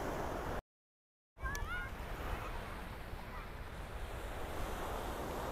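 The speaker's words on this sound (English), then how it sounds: "Let me show you the ocean." Ocean waves and surf rolling onto Miami's South Beach during an air and sea show, a steady wind-buffeted wash of breaking water with a brief dropout near the start and a faint whistle-like tone above it.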